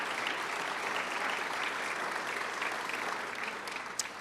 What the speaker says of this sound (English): So I'd like to recognize them with another round of applause.